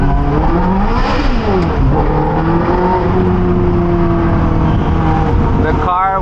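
A Mazda RX-7 drift car's 26B rotary engine revs and warbles with rising and falling pitch, loud and close, with a rough burbling idle underneath and no talking.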